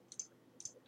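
Two quick pairs of mouse clicks, crisp and close, with brief pauses between them and a quiet room behind, as page layouts are clicked and moved around.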